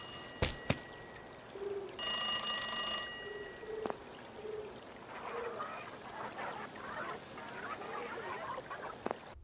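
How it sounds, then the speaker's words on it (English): A telephone rings in bursts on the Inkblot Academy map during Splatfest in the Splatoon video game, a bright trilling bell heard twice amid soft game ambience and faint chatter-like noise. "In the Inkblot Academy map during Splatfest, the phones can be heard ringing"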